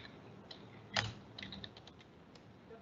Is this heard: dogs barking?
no